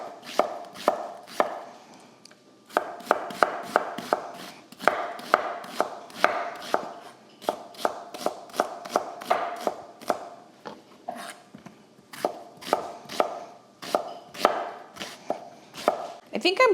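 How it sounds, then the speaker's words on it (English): A knife chops carrots, celery and onion on a cutting board in quick, regular strokes, close and crisp, with one short pause early on before the steady rhythm resumes and continues to the end. "while we chop the vegetables"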